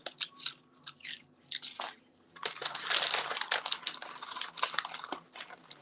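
Close crunching of chips, with sharp crackling bites and crinkling bursts in an uneven rhythm, building into a longer dense stretch of chewing noise.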